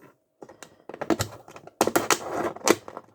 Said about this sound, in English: once you made the incision, you can then get a scissors